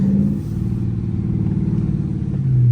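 A Dodge Charger R/T engine rumbles close and loud through a U-turn, its throbbing exhaust pulsing steadily, then rising as the revs climb at the end.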